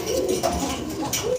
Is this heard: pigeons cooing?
yes